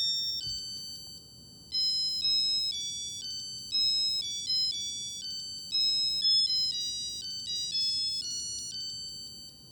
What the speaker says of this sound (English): So now we're going into the date alarm, I believe. The date alarm melody is